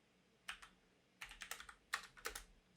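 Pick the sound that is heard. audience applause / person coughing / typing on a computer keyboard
typing on a computer keyboard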